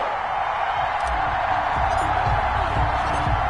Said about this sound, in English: This crowd is ready as their guys get set to match up between the New York Jets and the New England Patriots